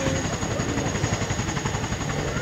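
A Boeing CH-47 Chinook tandem-rotor helicopter flies backward at low altitude, its steady, loud rotor chop and engine whine continuous and close with an even pulsing beat.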